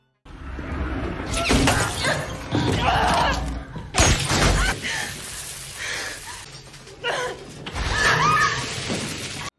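Several sharp cracks and crashes of breaking glass as a gunshot shatters a cell phone at a gas station in a horror movie, loud and close, among thuds and a busy, tense mix of noise.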